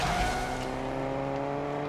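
A car driving in the Fortnite video game, a steady engine drone with sustained tonal harmonics holding at an even level, close and alone with no talk.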